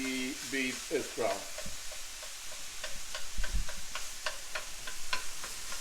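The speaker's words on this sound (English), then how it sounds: "I am going to cook this until there's a good mix and the beef is brown" Ground beef browning in a pan for Argentine empanada filling, a steady sizzle with a run of regular scraping stirs; a voice talks briefly near the start.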